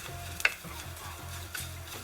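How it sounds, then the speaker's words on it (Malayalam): Spices dry-roasting in a pan for Kerala sambar, with a steady rhythm of soft scraping stirs over a faint sizzle and a brief sharper clink near the start. "ഒന്ന് നന്നായിട്ട് മൂപ്പിച്ചെടുക്കണം. ഇവിടെ തന്നെ നിന്ന് മൂപ്പിച്ചെടുക്കണം, കാരണം കരിഞ്ഞു പോവാതെ ശ്രദ്ധിക്കണം."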